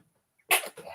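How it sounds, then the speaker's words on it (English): One abrupt sneeze bursting out after near silence, short and breathy with a softer tail and a small follow-up exhale. "now I got the sneezes"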